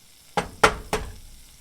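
An egg cracked over a frying pan with the toast already in it: three sharp, close taps in quick succession, then quiet.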